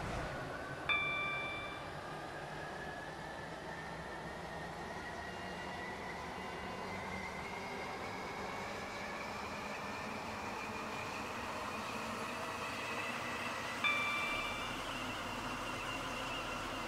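A train runs in the Roblox game Stepford County Railway on a Stepford Connect service to Port Benton, a steady rising motor whine and rumble throughout, with two short chime tones near the start and end.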